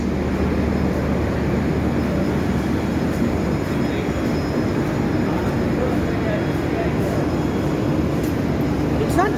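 Steady, loud rumble of an idling train at Chennai Central station, with a constant low drone and hiss filling the whole stretch, no distinct events rising above it.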